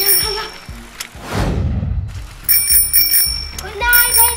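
A bicycle bell rings in repeated bright metallic trills, with thumps and a whooshing sweep between the rings and voices talking in the background.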